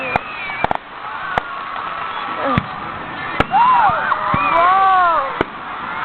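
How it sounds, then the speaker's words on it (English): Fireworks burst over Coney Island with sharp, loud cracks at irregular intervals, while people nearby talk and exclaim over the blasts. "fireworks over there."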